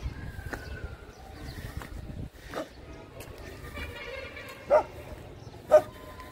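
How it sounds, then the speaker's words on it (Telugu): Dogs bark near a hillside temple trekking trail, with faint, scattered yelps at first, then two sharp, louder barks close by toward the end. "కుక్కలు అరిచేస్తున్నాయి నా మీద"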